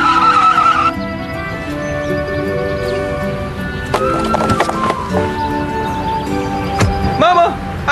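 A car brakes hard, its tires squealing and skidding loudly in sustained, wavering tones that shift pitch partway through, with a voice briefly audible near the end.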